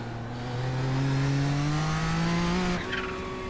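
Race car engine in the iRacing sim at Sebring during a Kamel GT Championship race, droning steadily with rising pitch, then cutting off abruptly as the engine blows, leaving a thinner, rougher sound.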